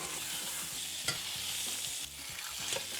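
Pork shoulder browning in a pan crackles and sizzles continuously up close, with a couple of brief sharper pops; no one speaks.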